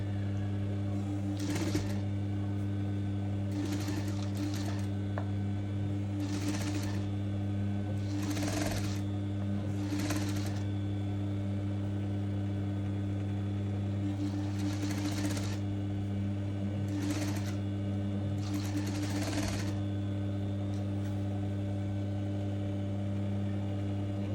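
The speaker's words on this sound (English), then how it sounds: "So you would stitch right on the edge." A sewing machine stitches along the edge of a dress shirt placket in repeated short bursts, with a steady mains hum running underneath throughout.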